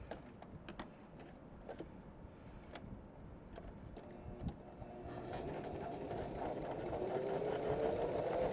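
A Janome 500 or 721 sewing machine stitching a small zigzag, a soft rapid mechanical whir with light ticking that builds and grows steadier and louder toward the end.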